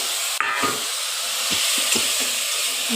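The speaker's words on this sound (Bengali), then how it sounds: "এবার মশলাটাকে ভালো করে কষাবো" Spice paste for a boal fish kalia curry being stir-fried with a splash of water, a loud steady hissing sizzle with a few spatula scrapes and knocks against the pan, close up and without talk.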